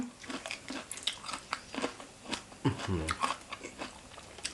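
Crunchy biting and chewing of spicy grilled squid papaya salad, loud and close, with irregular crisp crunches and wet mouth sounds over about four seconds.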